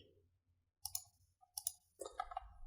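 Two or three soft, close mouse clicks separated by quiet pauses, pressing play in teleprompter software, with faint low hum behind.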